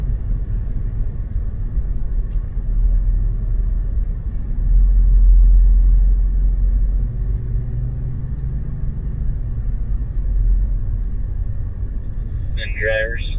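A BMW M3 idles in park at the Spartanburg M School, a steady low rumble that swells briefly midway, with a short beep-like chirp near the end.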